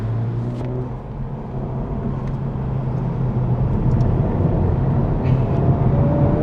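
Honda Civic Type R FL5 pushed hard around Sydney Motorsport Park, its engine roaring loud and steady from inside the cabin, pitch gradually rising under acceleration.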